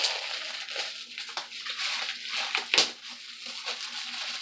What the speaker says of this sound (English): get this head of lettuce open and rinsed off